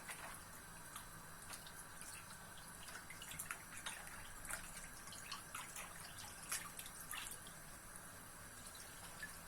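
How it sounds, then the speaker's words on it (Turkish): Boiled börek dough for water börek being washed in cold water, a steady soft trickle of running tap water with scattered small splashes and drips throughout, close and without talk. "Soğuk suda yıkayacağım böyle."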